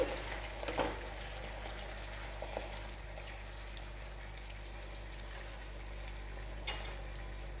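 Red chili paste being mixed into a sauce for restaurant-style chili paneer gives a faint, steady sizzle and simmer, with a low hum underneath and a couple of soft clinks near the start and end.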